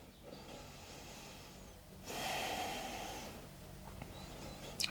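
Deep breathing during a gentle beginner yoga flow: a slow, quiet breath in and a longer audible exhale in the middle of the clip, close to the microphone and otherwise calm.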